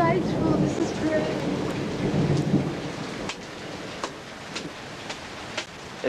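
Heavy rain pours steadily in a downtown Charleston storm, with sharp thunder cracks rising above the downpour in the later seconds. People talk loudly over it.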